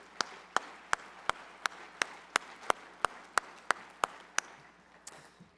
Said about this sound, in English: How about another rich round of applause for the leaders on this stage right now?